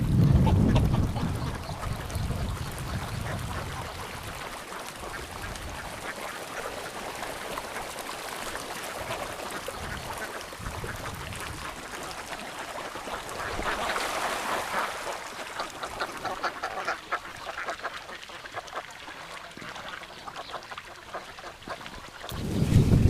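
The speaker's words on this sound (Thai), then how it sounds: "มาฟาร์มเป็ดของพี่เพ่นนะครับ" Dense, continuous quacking from a large flock of Khaki Campbell laying ducks, around 700 birds on a one-rai duck farm, a loud overlapping chorus that swells and fades with no talk.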